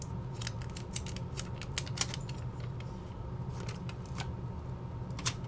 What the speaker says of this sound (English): it looks like there's a piece of outer paper on here you gotta pull off